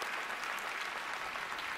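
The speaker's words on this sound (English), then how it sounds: "The shout-out received by far the largest cheer at the Oscars." Dense, loud applause from a large audience at the Oscars ceremony, a continuous roar of clapping that fills the whole moment without talk.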